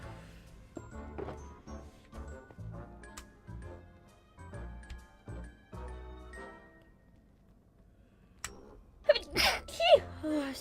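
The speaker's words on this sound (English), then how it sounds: "Start sneezing again now." A woman sneezes sharply twice near the end, close and loud, after a stretch of her quiet talk over soft Minecraft game sounds with light tinkling effects.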